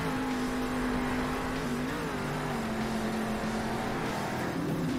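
A monster truck engine drones and revs steadily while accelerating down a straight on a race track in Monster Jam Steel Titans, a continuous loud motor hum with a slight pitch wobble over other engine noise.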